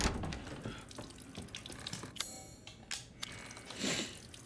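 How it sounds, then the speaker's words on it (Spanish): Running tap water in Resident Evil Village, rinsing a bloody wedding ring in a sink, with an irregular splashing flow and a brief louder gush near the end, close and alone. "supongo que tendremos que lavarlo con agua"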